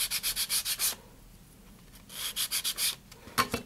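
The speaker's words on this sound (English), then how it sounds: "we're going to sand the edges. Just take that little tick off there" Quick rhythmic strokes sand the edges of small plastic model antenna panels for a Saturn 1B rocket kit, a dry rubbing scratch heard close in two bursts of back-and-forth passes separated by a pause, with no talking.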